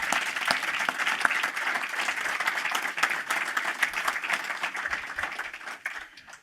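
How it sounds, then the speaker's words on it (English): An audience applauds Victoria Lennox, founder and CEO of Startup Canada, at a Startup Canada event, with steady, dense clapping from a large crowd that holds for several seconds before tapering off. "Can we please give a round of applause for Victoria Lennox, the founder and CEO of Startup Canada."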